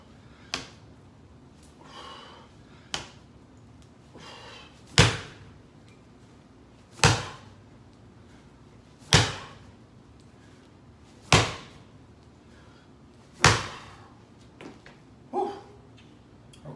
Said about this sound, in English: I'm going to do 5 floor-to-ceiling squat presses and then immediately turn that into 5 slam ball slams.